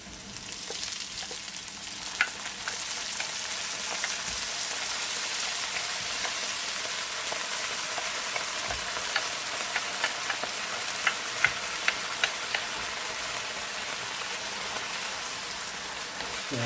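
Raw washed rice, about two cups, frying in a pot with onion and garlic for Guyanese cook-up rice gives a steady crackling sizzle with occasional scraping stirs, close and continuous with no talk.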